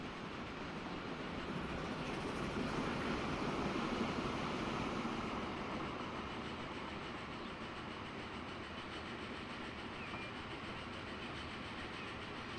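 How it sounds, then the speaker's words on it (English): A train rolls past in the tropical railway-building game Transport Fever 2, a steady low rumble with faint rhythmic rail clatter that swells and then eases off as it goes by. "Oh, look, another train."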